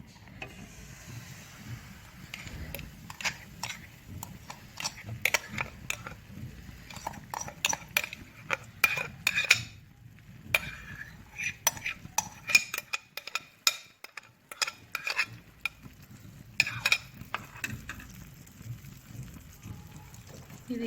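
Small spoon scraping and clinking against a pan as halwa batter is stirred in hot ghee over low flame, a steady run of sharp metallic taps and scrapes with a soft sizzle beneath.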